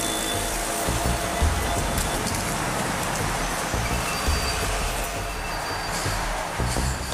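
Train wagons race past at high speed on the rails at night, filling the whole stretch with a loud, continuous, close rumbling roar and rattle that never lets up. Faint metallic squeals rise through it.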